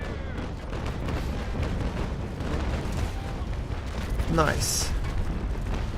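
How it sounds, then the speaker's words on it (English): Ship cannons firing a broadside of 6-pounder long guns in the naval game Naval Action Legends, a continuous dense rumble of booms with a voice briefly speaking near the end. "Notifying everybody that I'm tacking again to fire another broadside."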